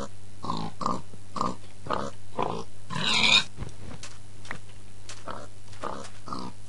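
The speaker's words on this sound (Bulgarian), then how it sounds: "Сега вижте как ще прецакам някой прасе." Pig oinks from the video game Minecraft, a series of short repeated grunts spaced about half a second apart, then a brief louder noisy burst, with more scattered grunts afterward over a low steady hum.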